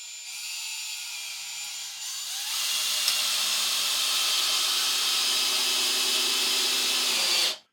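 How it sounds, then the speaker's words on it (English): A cordless drill runs continuously at its lowest speed setting, a steady high whine that rises slightly in intensity after a couple of seconds and holds until it stops abruptly, close and alone. "If the drill feels weaker than the impact driver, let's go down to speed 1 and just see."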